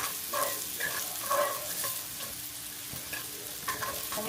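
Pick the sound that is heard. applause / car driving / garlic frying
garlic frying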